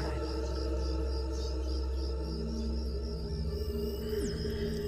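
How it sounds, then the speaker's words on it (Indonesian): Steady high-pitched chirping of crickets over a low, constant background hum, continuous and fairly faint. "Hanya terdengar suara-suara jangkrik dan suara khas keheningan malam."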